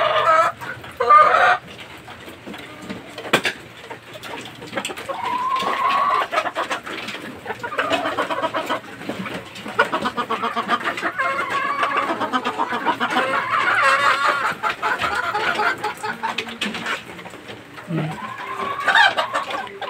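Gamecock roosters kept in pens clucking and calling on a farm, a near continuous chorus of overlapping clucks and squawks with a brief crow, close and moderately loud.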